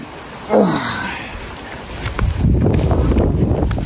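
Wind buffets the microphone, gusting louder in the second half, with a brief voice near the start.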